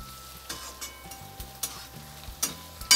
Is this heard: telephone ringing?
no